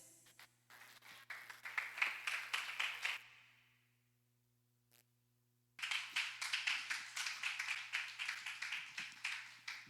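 A church congregation claps in praise during a worship service: a steady rhythmic burst of many hands, a pause of near silence, then a second sustained round of rhythmic clapping, fairly close and loud.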